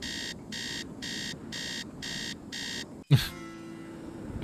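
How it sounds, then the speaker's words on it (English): An electronic alarm in the game Nancy Drew: Treasure in the Royal Tower beeps in six evenly spaced bursts, then a sudden thud cuts in and a lower hum lingers afterward. "Alarm."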